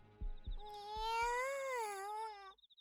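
A cat meows in the Riddle Joker visual novel game, one drawn-out, wavering cry that rises and falls, loud and close, preceded by a few soft thumps and rustles.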